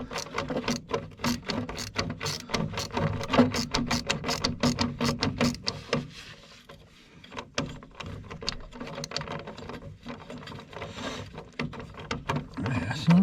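A ratcheting 11-in-1 screwdriver backs a screw out of a gas heater that gives no heat, a rapid series of clicking ratchet strokes in bursts, with a pause partway through.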